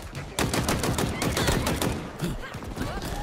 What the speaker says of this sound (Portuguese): Quem tá atirando em mim?